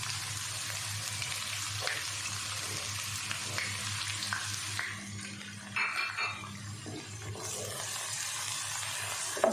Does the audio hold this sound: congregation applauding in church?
no